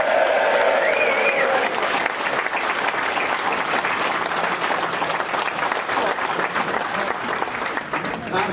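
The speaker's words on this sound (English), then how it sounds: "let's just give him a round of applause" Large political rally crowd in Huddersfield clapping loudly and continuously, a dense roar of applause with scattered cheers and crowd voices mixed in throughout.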